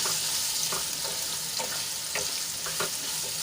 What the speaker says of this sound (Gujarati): દૂધીને સરસ રીતે તેલમાં મિક્સ કરી લઈશું